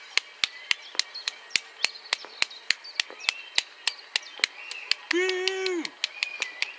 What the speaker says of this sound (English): The entire side of Nottingham is just lit up in applause.